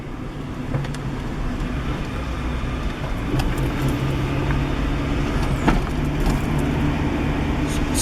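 Cabin and road noise from a 1998 Acura Integra driving while jerking in gear, a steady low engine drone and rumble with faint clunks and knocks scattered through, growing slightly louder partway; no talking.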